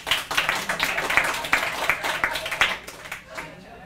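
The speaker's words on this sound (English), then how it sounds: "Give her applause." Scattered clapping from a small poetry night audience, uneven and rhythmic in bursts, mixed with voices, fading toward the end.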